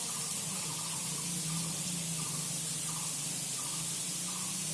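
Liquid sprinkled from a shaken bottle over namkeen frying in hot oil, a dense continuous hissing spray and sizzle, close and loud, steady throughout with faint rhythmic pulses.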